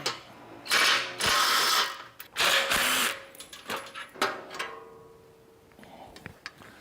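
Tools whir and ratchet in short bursts while removing the fan shroud from a 1934 Ford Coupe, loud close rattling runs with gaps of clicks and clanks between them, then quieter scattered taps.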